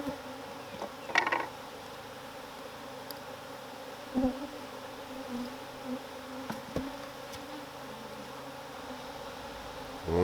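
Angry honey bees pour out of nucleus hives, a low continuous buzzing hum with occasional louder bees darting close by, fairly quiet overall.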